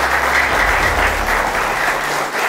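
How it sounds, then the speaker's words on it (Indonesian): Applause from an audience of university students at a public discussion event, a steady dense wash of clapping that continues without a break throughout. "tepuk tangannya boleh"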